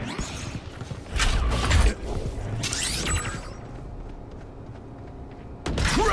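Weapon reload in the Valorant video game: a run of mechanical clicks and creaky metallic handling, loudest in a burst early on, then quieter clacks before a final sharp mechanism sound.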